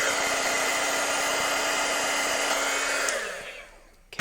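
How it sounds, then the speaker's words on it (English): A craft heat tool blows a loud, steady whooshing hiss while setting embossing powder on a slimline card, running evenly before winding down and clicking off near the end. "I'm going to use the heat tool to set this embossing powder."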